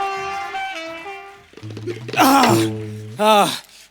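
A voice imitates an arriving train on a comedy stage, starting with a wavering horn-like toot and moving into loud chugging and hissing bursts, close and full of vocal character.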